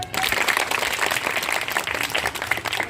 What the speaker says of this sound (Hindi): जोर से बजाइए तालियां।